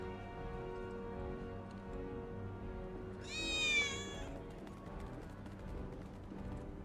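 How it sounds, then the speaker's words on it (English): A cat gives one clear, rising meow partway through, loud and close, over a steady low background hum. "But the cat's right there."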